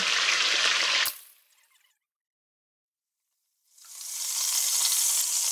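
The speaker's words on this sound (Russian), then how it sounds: "обжариваем все мясо в 2-3 приема до румяной корочки" Loud sizzling from meat frying in a hot pan cuts off abruptly, a few seconds of silence follow, then the sizzle rises again and holds steady.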